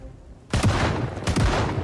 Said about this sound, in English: this shotgun puts in its work